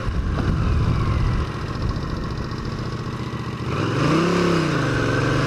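A 1981 Honda CX500 motorcycle with a carburetor issue runs steadily while being ridden on a commute, its engine a loud, continuous drone close by, then revving up and down as the rider accelerates and eases off.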